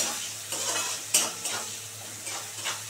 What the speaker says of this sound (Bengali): এবার পেঁয়াজটাকে একটু ভালো করে লাল লাল করে ভেজে নেব